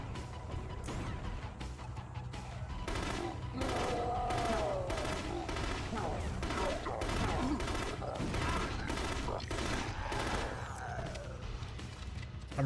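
Heavy, sustained gunfire from the shooter video game The Conduit: dense, rapid volleys of shots fire almost without pause, loud and close, with a voice talking over parts of it.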